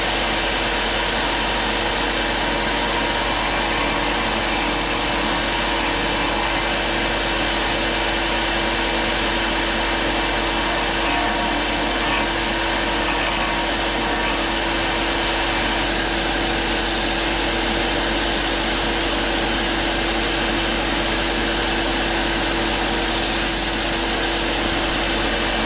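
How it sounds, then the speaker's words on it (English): Combination belt and disc sander running continuously as wooden lozenges are sanded, a loud steady high whine with grinding texture, close and unbroken for the whole stretch. "I got this thing, combination belt and disc sander. So we're gonna sand some of these lozenges"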